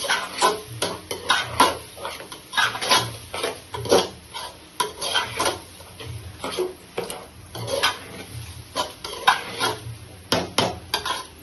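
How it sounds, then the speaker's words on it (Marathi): Rice and masala stirred in a cooking pot, a spoon scraping and clinking against the metal in a steady run of strokes over a soft sizzle, close and moderately loud with no talking. "असं आपण हलवून घ्यायचं."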